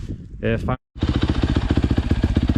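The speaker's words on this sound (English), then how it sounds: "Bike's warming up right now." After a short spoken phrase and a moment of silence, a Yamaha YZ250FX dirt bike engine idles close by while warming up, a loud, steady, fast-pulsing thump.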